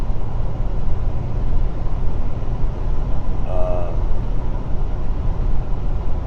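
A car driven on the way to work gives a steady, loud low rumble of engine and road noise with no change, and one faint brief chirp partway through.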